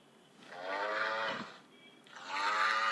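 A cow moos twice, long drawn-out lowing calls close by with a short pause between them, and no other sounds around.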